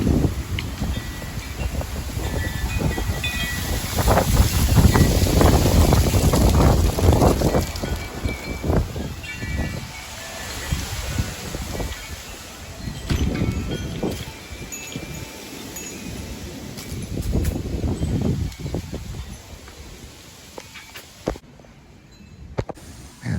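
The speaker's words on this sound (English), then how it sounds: "Big time gust of wind came through." A strong gust of wind sweeps through outdoors among trees with scattered acorns, surging into loud buffeting and rustling bursts on the microphone before easing off, with no talking.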